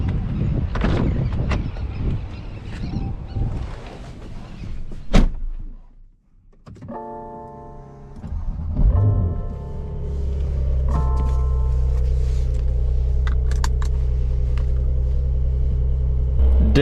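A 2021 Porsche 911 Carrera 4S starts up: door and cabin clunks, a brief starter whir, then the engine catches with a loud rumble and settles into a deep, steady idle close by.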